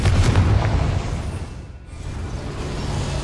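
A Confringo fire spell blast in the Hogwarts Legacy video game: one loud, booming explosion that fades and then swells into a rumbling tail, with no talk over it.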